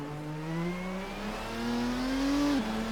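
2000 Lister Storm GT race car in a racing video game, its engine note rising steadily as it revs up through a gear, loud and close, then dropping sharply at a shift.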